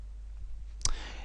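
A single mouse click on a create group button, one short crisp click standing alone over a faint steady room hum.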